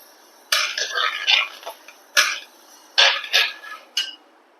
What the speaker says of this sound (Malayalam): പരിപ്പ് ഇളക്കിക്കൊണ്ട് തന്നെ ഇരിക്കണം കരിയാൻ പാടില്ല കൈ എടുക്കാതെ ഇളക്കിക്കൊണ്ടിരിക്കണം